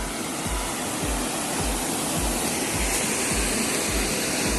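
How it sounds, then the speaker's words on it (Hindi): A river rushes past a famous temple near Gir on an early morning, a loud, steady, close wash of flowing water with soft rhythmic low buffeting underneath and no speech. "ये है नदी"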